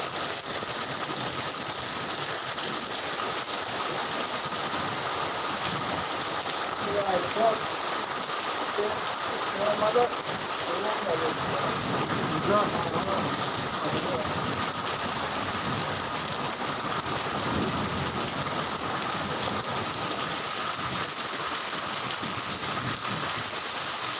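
Heavy rain pours steadily as a dense, constant hiss and patter with faint low rumbles, continuous and loud throughout, while voices talk faintly beneath the downpour.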